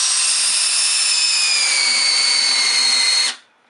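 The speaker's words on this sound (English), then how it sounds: "I'm going to just show you how hard it is to drill a hole." A cordless drill boring a hole in dense purpleheart hardwood whines loudly at high speed for a few seconds, pitch drooping slightly under load before it cuts off abruptly.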